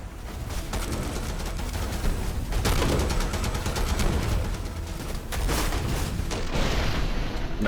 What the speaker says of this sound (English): We'll also take a shot with a pistol here.